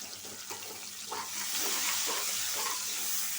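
Chopped onion and green chillies hiss loudly in hot frying oil left from frying prawns, a steady close sizzle that swells as the pan is stirred.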